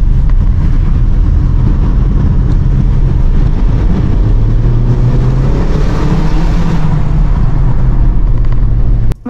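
A Lexus UX's 174 PS 2-litre inline-four pulls hard in sport mode on a late-night Tokyo road, a loud steady drone rising smoothly in pitch with road and wind noise underneath before cutting off abruptly.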